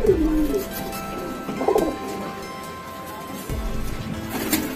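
A pair of pigeons coo in short, throaty bursts, several calls close by, with soft handling noises and faint background sounds between them.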